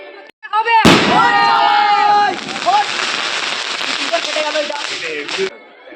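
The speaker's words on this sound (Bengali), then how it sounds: "আতশবাজি ফাটানো হচ্ছে।" Fireworks going off at a Bengali wedding reception: a sudden loud bang followed by a dense crackling burst that rattles on for several seconds, with whistling tones and festive background noise.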